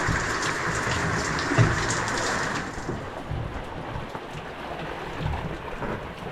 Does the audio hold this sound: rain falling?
yes